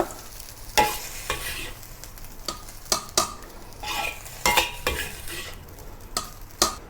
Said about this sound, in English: Then remove the fried rice from the wok.